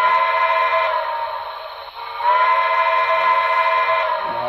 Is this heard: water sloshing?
no